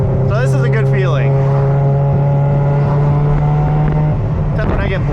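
A Mazda FD RX7 cruising with the window down gives a constant low engine hum under a speaking voice, the drone dropping away near the end.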